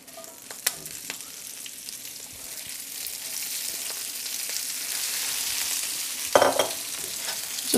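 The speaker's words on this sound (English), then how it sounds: "Just kind of saute that as you would." Spinach sautés in a pan on the stove, a continuous hissing sizzle that grows slightly louder, with a few stirring clinks and a brief stronger scrape near the end, heard up close.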